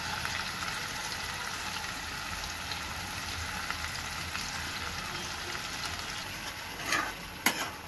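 Onions and green chillies frying in a pan with cumin for a palak chicken gravy: a steady, close, hissing sizzle throughout, with a couple of brief clinks near the end.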